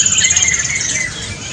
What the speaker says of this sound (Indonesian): kita live antara kacer sama murai. Kacer dada hitam melawan murai, battle nih ya.